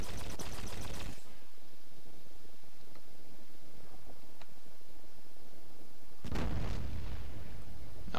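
Rocket launcher blasts in the Fallout Tactics game: a loud booming burst at the start, then quieter rumbling, and a second heavy explosion near the end, with no talking.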